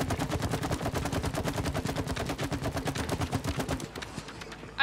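Rapid gunshots from a shooting mini game in It Takes Two: a fast, regular stream of sharp shots fired for about four seconds, fairly loud and alone, then stopping abruptly.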